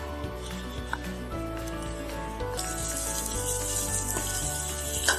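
Mutton pieces with chops frying over a low flame in a pan, a steady close sizzle and crackle that brightens and intensifies midway, with faint clinks and no talk.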